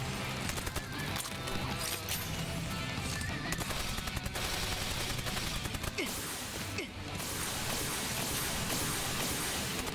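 Rapid assault rifle bursts in the shooter game SAO: Fatal Bullet, dense continuous firing with sharp repeated cracks layered over loud game ambience, no talking.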